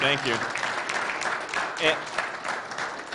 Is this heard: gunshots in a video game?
no